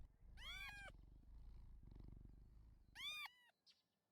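Two loud, close meows from a cat character in a Roblox game, each a high harmonic cry about half a second long, with a steady low background hum between them and a brief faint cry at the end.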